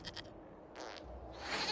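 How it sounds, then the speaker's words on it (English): A goat in Dragon Age: Inquisition bleats in a few short, nasal cries, close and fairly clear, with a brief rising call near the end over a soft game background. "we discovered this man attacking the building with a goat"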